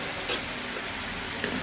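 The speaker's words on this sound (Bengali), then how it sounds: "এখন এই মশলাটাকে আমি একটু কষিয়ে নেব।" Spice masala being fried and stirred in a pan for a chana and potato korma, salt just added: a steady soft sizzle with a few brief scrapes of the spoon, no voices.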